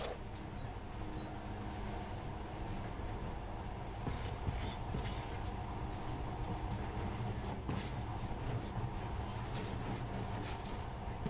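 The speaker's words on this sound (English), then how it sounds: "In the past, trains were ordinary things, but now, this monorail seems magic, doesn't it?" Monorail train running in Metro Last Light Redux, a faint steady rumble of the car in motion with low drone and occasional clicks throughout.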